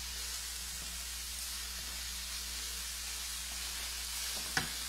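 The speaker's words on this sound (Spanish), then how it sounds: "aquí luego voy a venir a hacer el salteado ya de la carne para los tacos" Pork steak sautéing in a hot frying pan for tacos al pastor, a steady close broadband sizzle running throughout with a brief sharp clack near the end.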